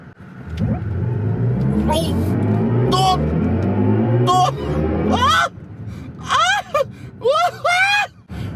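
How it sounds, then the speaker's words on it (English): A 2024 BMW i5 M60 electric car accelerates hard in sport boost mode. Its low, steady motor drone runs under loud excited gasps and whooping exclamations from the occupants. "let's put it into sport mode and let's do the boost mode"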